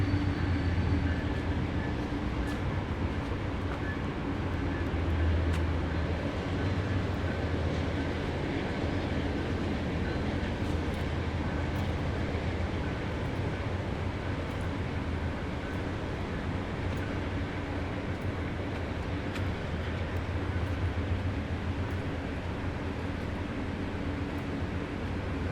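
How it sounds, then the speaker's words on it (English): Trains rumble steadily past on both sides of someone standing between two tracks, a continuous loud low roar with wheel and wagon noise filling the whole stretch, no talk over it. "There's a train passing on either side of me."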